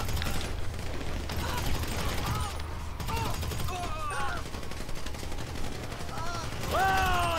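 Gunfire in Grand Theft Auto V, rapid repeated shots and clattering bursts under overlapping shouting voices, with metallic mechanical clicks and a whining tone toward the end.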